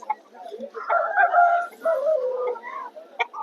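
Roosters at a Vijayawada rooster market give a long, full crow up close, with shorter calls and clucks from nearby birds around it.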